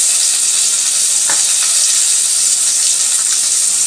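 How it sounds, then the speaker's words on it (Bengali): Potato and green banana pieces frying in hot oil for a Bengali fish curry, a loud, continuous close-up sizzle with no talking. "আলু কলাটা আমার হালকা ভাজা হয়ে গেছে"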